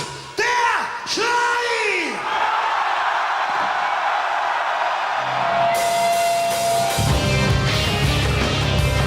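A large rock festival crowd at Taubertal-Festival roars and yells together in a loud surge, followed by sustained crowd noise and the band coming back in.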